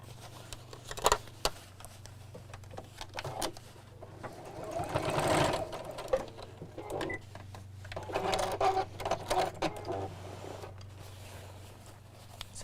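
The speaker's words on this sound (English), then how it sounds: "take the long strap and sew this facing downwards over the side seams" A sewing machine sews a long strap, facing down, over the side seams of a simple cross-body bag, in a quiet stop-start stitching run over a low steady hum.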